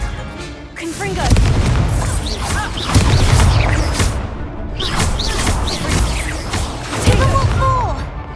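Repeated Confringo explosive spells in Hogwarts Legacy: several heavy booms with whooshing bursts arrive every couple of seconds, loud and close, amid combat noise and a speaking voice.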